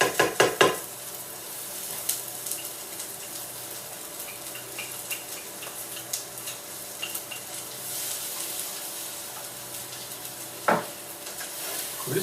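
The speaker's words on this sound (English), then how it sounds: "We'll just stir that around a bit." Quinoa is stirred in a pan with mushrooms nearby: soft scraping and clinking of a utensil against the pan over a faint sizzle, with a few sharper knocks, fairly quiet and close, no talking.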